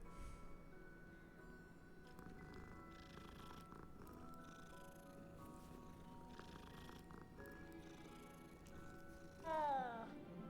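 A cat in Hogwarts Legacy purrs softly beneath faint game music, then gives one short, clear meow near the end.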